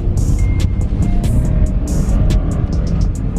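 2018 Ford Raptor truck drifting through snow, a steady loud engine roar close by with repeated short high whines or squeals cutting in and out, no talking.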